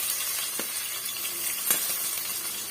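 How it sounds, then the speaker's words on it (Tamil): Chopped onions fry in hot oil for an egg gravy, producing a soft, steady hiss of sizzling with a couple of faint clicks from stirring. "இந்த ஸ்டேஜ்ல நீங்க கட் பண்ணி வச்சிருக்க இந்த வெங்காயத்தை வந்து சேர்த்துக்கலாம்"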